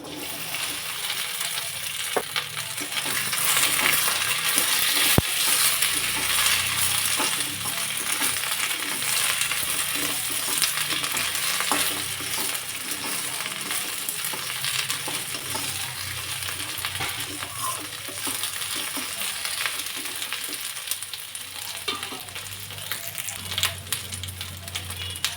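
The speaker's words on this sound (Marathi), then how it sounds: "तर चिरून घेतलेली भेंडी घालायची." Chopped okra fries in hot oil in a kadai with a continuous loud sizzle, broken by clinks and scrapes of a stirring spatula against the metal pan, close up throughout.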